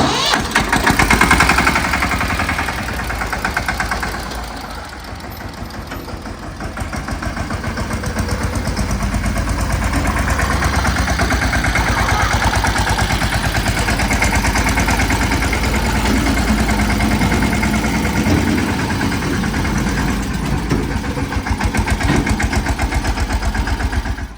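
A steady tractor engine rumbles continuously at close range, a low mechanical drone with a brief dip early on before settling into an even idle.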